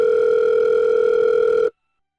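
A telephone tone sounds while a call is being placed: a clean, steady electronic hum that stops abruptly after under two seconds and is followed by silence.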